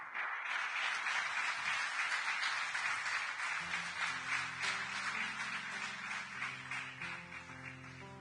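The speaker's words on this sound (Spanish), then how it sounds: "dale un fuerte aplauso al Señor" Church congregation applauding together, a sustained dense wash of clapping throughout, with a sustained musical tone joining in partway through.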